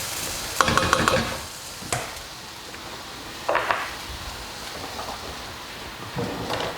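Chickpea and spinach curry ingredients browning in a pan, a soft steady sizzle punctuated by a few clinks and scrapes of a utensil against the pan, close and unaccompanied by speech.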